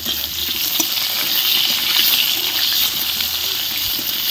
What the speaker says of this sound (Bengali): 5 ফোড়ন তেলের মধ্যে, তার মধ্যে দেশি পটল, আলু, ডাঁটা।